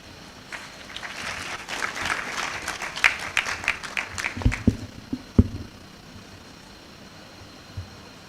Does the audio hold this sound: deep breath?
no